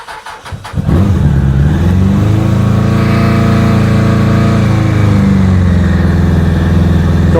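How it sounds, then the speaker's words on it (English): A Suzuki Bandit 600cc motorcycle cranks briefly, then catches and settles into a loud, steady, close-up running idle with a throaty hum that rises slightly in pitch before easing back down. "So I'll start the bike."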